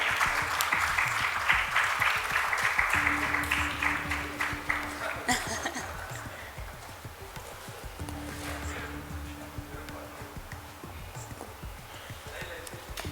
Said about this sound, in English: Let's have a huge round of applause for Suresh ji as well.